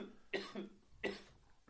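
Two faint, distinct coughs about seven-tenths of a second apart come from a man on a casual podcast whose back hurts, each a short harsh burst with a quieter tail.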